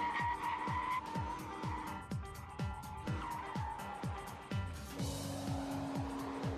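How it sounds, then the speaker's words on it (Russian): A car brakes at full force from about 100 km/h on Brembo brake pads, tires skidding and squealing in a rapid, rhythmic series of sharp bursts, ending in a sustained tone. "а потом бьешь по тормозам изо всех сил."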